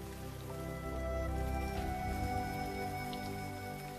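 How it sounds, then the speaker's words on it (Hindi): Heavy rain falls as a sound effect in an Urdu radio drama, a steady close pattering wash with scattered drips, fairly even and without talk. "बारिश कितनी तेज है।"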